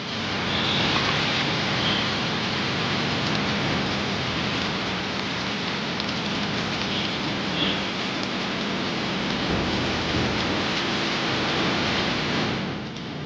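Heavy downpour over flooded Delhi-Gurugram streets, a steady broadband hiss of rain drumming on surfaces with a faint low rumble of traffic beneath, continuous and unbroken.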